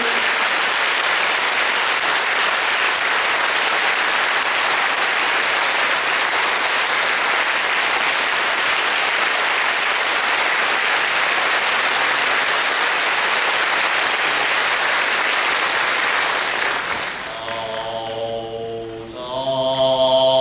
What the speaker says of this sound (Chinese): 现在就让我们以热烈的掌声欢迎佛光山梵呗赞颂团